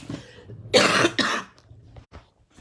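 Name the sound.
cough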